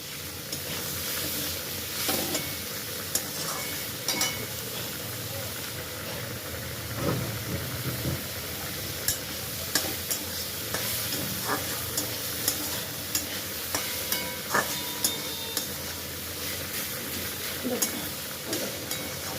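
Boiled chicken being fried in a pan as momo filling, a steady sizzle with scraping stir strokes throughout, close and moderately loud with no talk.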